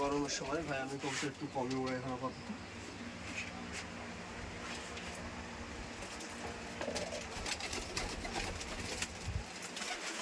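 Giribaz pigeons coo repeatedly in a soft, rolling rhythm close by at a pigeon farm, with people talking in the background.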